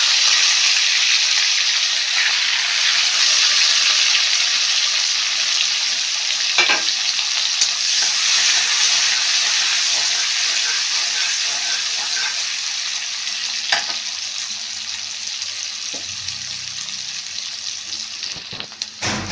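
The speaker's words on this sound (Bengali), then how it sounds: "এবার দিয়ে দেবো আমি কাঁচা লঙ্কা" Green chillies crackle and sizzle in hot oil with cumin already fried, a steady dense frying hiss running the whole time, close and loud, with a few sharp clinks from stirring late on.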